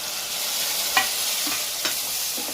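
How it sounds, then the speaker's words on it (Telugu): Tomatoes go into a hot frying pan for tomato bath, and a steady soft sizzle follows, broken by a few light stirring clinks of a utensil against the pan. No voices are heard. "మెయిన్ ఇంగ్రీడియంట్ టొమాటోస్ ఇప్పుడు వేసుకుందాము."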